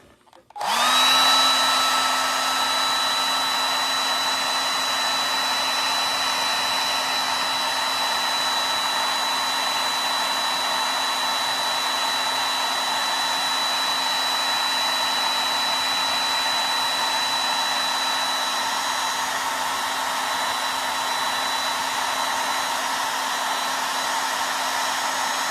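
A hair dryer switches on and runs steadily at close range to dry a watercolor painting of a goldfinch, a loud, constant whooshing whine with no change for the whole stretch.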